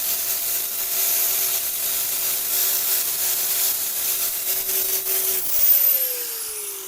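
A power cutting tool slicing out rusted floor pan metal on a 1971 Chevy Nova, a steady high whine with a constant hiss that runs for several seconds and then stops abruptly, winding down.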